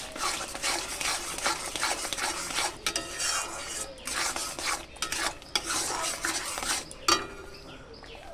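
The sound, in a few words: stirring and sautéing masala for hilsa curry in a pan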